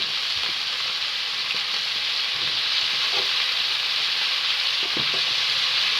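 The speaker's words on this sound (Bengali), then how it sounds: "তেলটা আমার গরম হয়ে গেছে আমি এখন ভালোভাবে আমি আলুটা ছাড়ে নেবো" Potatoes frying in hot oil make a steady, close, dense sizzle with light crackle and occasional soft stirring knocks, no voices.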